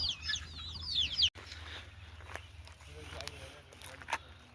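A large rooster crows at night around 2:30 to 3 a.m. near the Sunkoshi river in Nepal, a loud wavering call in the opening second before it cuts off, followed by quieter background sounds.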